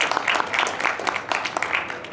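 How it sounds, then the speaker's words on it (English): An audience claps for a winner at a furry convention game show stage event. The applause is a dense, steady patter of many hands for about two seconds, with a few louder bursts. "let's give a round of applause"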